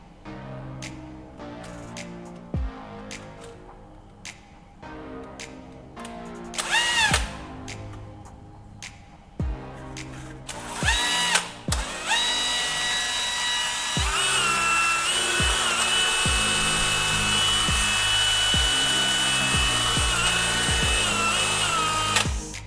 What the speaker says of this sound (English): I'll mount it in my drill and use sandpaper to shape it.